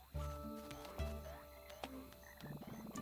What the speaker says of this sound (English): Check out those singing frogs.